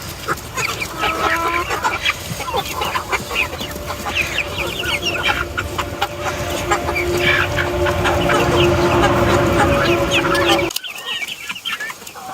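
Young backyard hens not yet laying, clucking and squabbling over kitchen scraps of cooked potatoes and carrots, with many overlapping close clucks and calls and a brief drop near the end.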